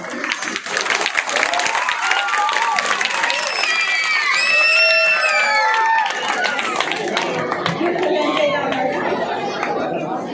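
An audience at a Ganesh festival show claps and cheers loudly throughout, with shouting voices and crowd chatter mixed into the applause.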